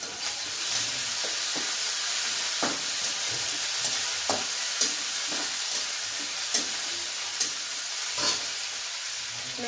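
Onion and potato fry in a pan for upma while being stirred, a continuous bright sizzle broken by regular spoon scrapes and taps, close and steady throughout.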